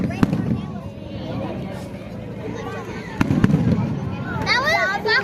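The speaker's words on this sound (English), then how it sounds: "fireworks, here you come." Fourth of July fireworks burst at an outdoor show in Methuen, with sharp cracks and booming pops scattered over a steady crowd murmur and people talking nearby, plus a few crackling whistles toward the end.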